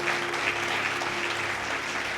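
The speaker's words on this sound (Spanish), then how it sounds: "un aplauso para el Señor y para ustedes." Dense applause from a church congregation at an anniversary service, a steady wash of many hands clapping close and loud throughout, with no pauses.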